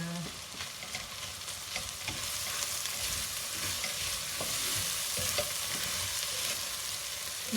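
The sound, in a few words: stirring bolognese sauce with herbs in a pan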